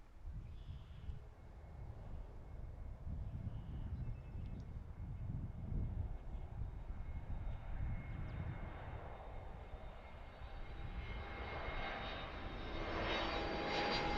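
An airliner takes off from runway 27 left at Philadelphia airport as a distant, broad engine roar that swells steadily and grows louder and brighter toward the end, heard alone without talk.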